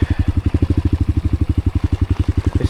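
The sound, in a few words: dirt bike riding on a track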